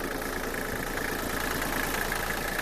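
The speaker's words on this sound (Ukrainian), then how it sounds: "Трактор завівся з пів оберту. Двигун працює дуже рівно, дуже добре." A Kubota GL23 tractor engine idles close by, a continuous even rumble with a faint rhythmic chug and no voices.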